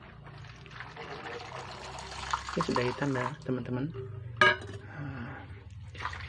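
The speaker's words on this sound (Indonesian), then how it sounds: "Kita siram lagi pakai air dingin." Cold water pours and splashes in short bursts over strained boiled tapioca pearls, with a dish clinking, while someone talks over it.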